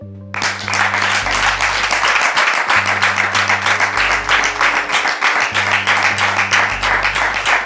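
Studio audience applauding to welcome a guest onto a French talk show set, loud, dense sustained clapping from the crowd that holds steady for several seconds, with music-like tones underneath and no speech.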